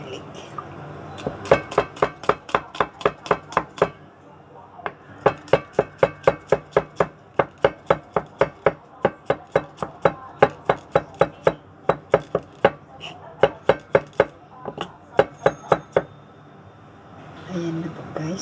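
Garlic is chopped with a knife on a board in a home kitchen, a quick run of sharp, evenly spaced thuds in several bursts with brief pauses, close and clear.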